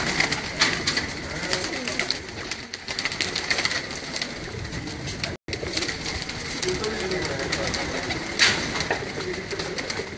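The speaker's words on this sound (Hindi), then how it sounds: "ये जी प्रवासी कबूतर हैं" Migratory pigeons on a Kasur rooftop loft coo steadily throughout, a soft layered cooing chorus with a few sharper calls, under a constant background hum and a voice.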